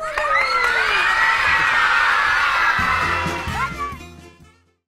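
An audience at a children's television show cheers loudly during the closing credits, with many children shouting and whooping over a busy roar for several seconds, then the noise fades away to near silence.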